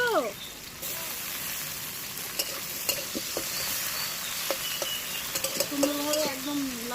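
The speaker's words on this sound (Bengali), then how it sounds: "আমি এখন লাল লাল করে ভেজে নেব" New potatoes fry in a pan with dried red chillies, giving a continuous sizzle broken by intermittent stirring scrapes, with faint voice-like sounds near the end.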